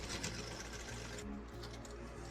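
A sewing machine stitching blouse fabric runs continuously with a steady whirring, rapid mechanical chatter, close and even in level, with no one speaking.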